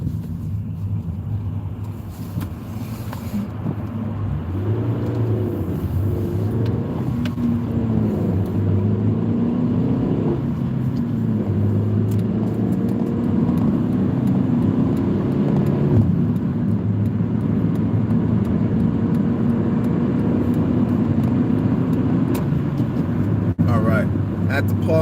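A car accelerates onto a highway, its engine rumbling and rising in pitch as it speeds up, with steady road and wind noise throughout. A voice talks intermittently over the driving.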